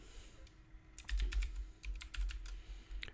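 A password typed on a computer keyboard: bursts of quick, light key clicks, close and quiet over a soft low rumble, with no talking.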